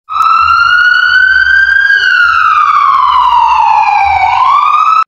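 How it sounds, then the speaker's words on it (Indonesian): A loud, close ambulance siren wails, rising and falling slowly in pitch and sounding alone for about five seconds. "Wow, ini ada ambulan."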